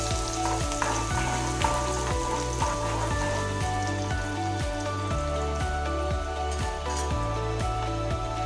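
Black chickpea curry sizzling and frying in a pan while being stirred, a steady close crackle with scraping stir strokes and a regular low rhythmic thump underneath, no voices.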